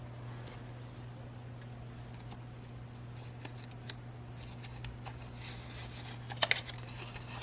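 Scissors snip through glossy magazine paper while trimming paper flower petals, a few quiet, scattered cuts over a steady low hum, with a small burst of sharper snips near the end.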